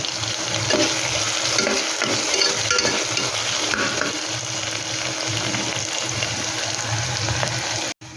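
Onions frying toward golden brown in a pan for pressure cooker pasta, a steady loud sizzle with stirring scrapes throughout, no talk.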